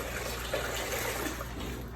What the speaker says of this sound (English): you're gonna put in 700 grams of water